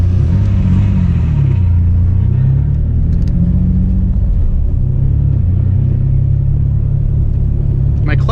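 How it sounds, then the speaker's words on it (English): A built, turbocharged Infiniti G35 with a slipping clutch revs hard up close, giving a loud, continuous low rumble and drone that rises and settles without a break. "My clutch is slipping"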